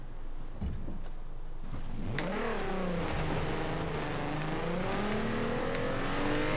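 A car engine in Forza Horizon 4 revs and accelerates, rising and falling in pitch through several gear-like sweeps, loud and steady after a few brief knocks at the start.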